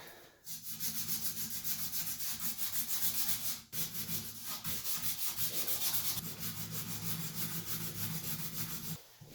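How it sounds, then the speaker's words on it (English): Sanding away a copper pipe fitting on a shower valve so a cutter can fit, a steady close abrasive rasping in continuous rhythmic strokes with one brief pause midway, loud and alone. "So I'm going to try to see if I can sand that down real quick, so I can get my cutter on there."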